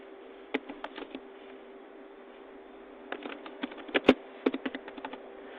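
Typing on a computer keyboard: short bursts of light, close key clicks, a quick cluster early, a pause, then a longer run of taps with a couple of firmer strikes, over a faint steady background hum.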